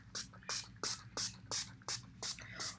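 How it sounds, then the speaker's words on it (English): A spray bottle squirts water onto ink-bleeding tissue paper in a steady run of about eight quick hissing bursts, evenly spaced and close by. "you can use a rag or a spray bottle to do this"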